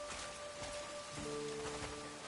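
Steady rain falls in Crimson Desert, a dense even patter across the whole stretch with faint tonal game sounds layered over it and no voices.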